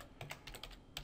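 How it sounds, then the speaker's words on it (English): Quiet typing on a computer keyboard, about six or seven light key clicks in an uneven rhythm over roughly a second, close and faint. "So I'm gonna just type"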